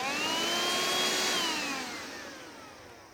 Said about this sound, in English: this is the only handheld cordless vac we have